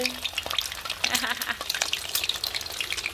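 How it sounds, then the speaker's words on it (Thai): Eggs frying in hot oil in a pan, a dense, steady crackling sizzle with bright popping spatter throughout, close and fairly loud, with a faint voice briefly in the background. "เราตั้งน้ำมันทอดไข่กันนะคะ"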